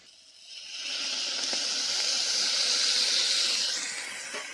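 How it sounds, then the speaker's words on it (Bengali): Water poured into a pan of tomato curry frying in oil with melted tomatoes, for papaya curry; a loud, steady broadband sizzle and hiss rises after half a second and holds close and continuous, fading slightly at the end. "এবার সেদ্ধ করার জন্য জল দিয়ে দিব।"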